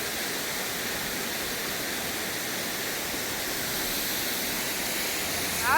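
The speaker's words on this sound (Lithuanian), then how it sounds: "Zaporovo krioklys. 15 metrų aukščio." A waterfall about 15 metres high roars in a constant, dense rush of falling water, steady and full throughout with no pauses.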